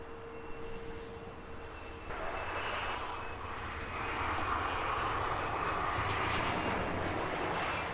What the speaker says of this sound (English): Number 2 to land, Delta 1, A330-200, in from New York JFK.